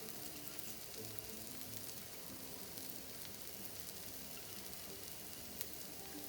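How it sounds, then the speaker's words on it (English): Onions sprinkled onto a thick uttapam with a teaspoon of oil, sizzling on a hot griddle: a steady, even frying hiss with a fine crackle throughout, close and continuous, no talking. "Add 1 teaspoon of oil to this. Sprinkle some onions to this now."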